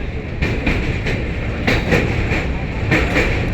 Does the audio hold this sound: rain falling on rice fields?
no